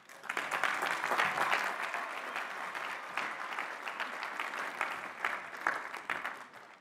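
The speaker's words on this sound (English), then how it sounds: "Please recognize the Doctors of Education and Doctors of Philosophy with our hearty congratulations and applause." Sustained applause from a commencement audience honoring new doctoral graduates at a graduate hooding ceremony, a dense steady wash of many hands clapping that swells early and holds fairly evenly throughout.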